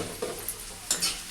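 Gongura mutton stirred in a hot pan, a spoon scraping and knocking with a soft sizzle underneath, in a few quick irregular strokes and no talking.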